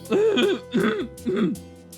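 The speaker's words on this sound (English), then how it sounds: "So I go up and I just clear my throat." A man clears his throat three times in quick, close, rough bursts with short pauses between them.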